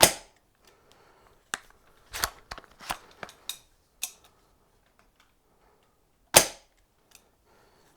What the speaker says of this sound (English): Sixth, seventh shot coming in now.